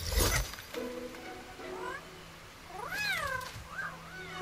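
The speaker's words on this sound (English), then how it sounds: "Don't they sound like kitty cats?" A cat-like creature in the video game Kena: Bridge of Spirits gives a string of soft, rising and falling meows, several short calls close together, fairly quiet and alone.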